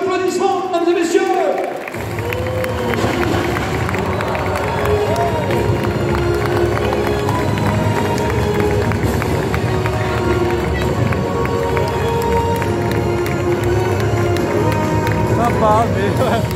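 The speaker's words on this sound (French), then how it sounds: "Vos applaudissements, mesdames et messieurs." Audience applause and cheering at the Le Mans 24 Hours 2025 Hyperpole trophy ceremony, a dense, loud, sustained clapping crowd that starts abruptly after a moment of talk and continues steadily with a public-address voice over it.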